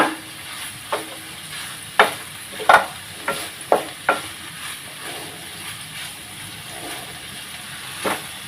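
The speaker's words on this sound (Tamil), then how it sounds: "இப்போ நல்லா வதங்கிறத இன்னும் கொஞ்சம் ரெண்டு நிமிஷம் வதங்கிறதுக்கு டைம் கொடுப்போம்" Vegetables with ginger and mango sautéing in a pan for a pickle, a steady soft sizzle with several scraping stirs of a spoon in the first half, then mostly quiet frying.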